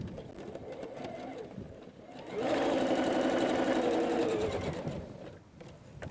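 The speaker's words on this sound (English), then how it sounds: "now we're just going to sew the 2 halves together" A sewing machine joins two quilt block halves for a wall hanging, whirring in a loud, steady run for a few seconds amid quieter stitching before and after, close up.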